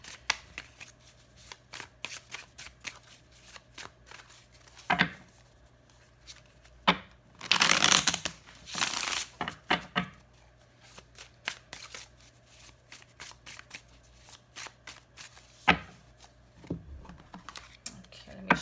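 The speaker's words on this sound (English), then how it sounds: "I'm going to shuffle the cards." Cards are shuffled close up: scattered riffles and flicks, with a longer burst of rapid riffling in the middle, then more soft shuffling.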